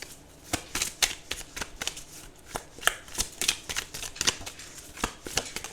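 Tarot cards being shuffled in a steady run of crisp riffling snaps and flutters, close and fairly quiet, with no talking.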